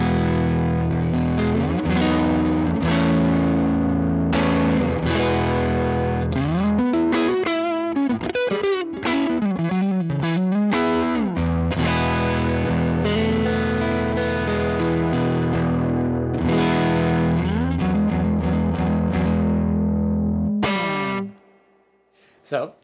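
Electric guitar through a Donner Dumbal Drive pedal with the gain turned up, heavily broken-up chords and bending lead lines with a loose, saturated edge, loud and continuous for about twenty seconds before stopping abruptly, no talking.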